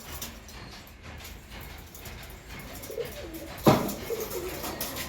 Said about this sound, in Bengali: এই যে আমার মিল পায়রাগুলো বন্ধুরা দেখতে পাচ্ছেন